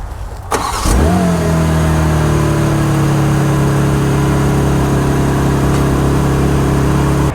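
A BMW X3 M's engine cranks and catches after a click on remote start, then settles into a loud, steady idle hum that continues close by.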